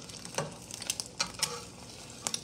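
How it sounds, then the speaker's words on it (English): Egg being stirred with a spatula as it fries in a pan for a breakfast sandwich, a steady soft sizzle broken by several short scraping strokes, close and clear with no talk. "All right, our egg is almost done. And we'll just start stirring it around."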